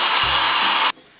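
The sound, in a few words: hair dryer blowing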